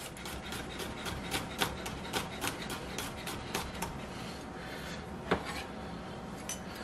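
A knife slices a garlic clove on a cutting board in a home kitchen. It sounds as a steady run of quiet, crisp taps about every quarter second, with one louder knock near the end.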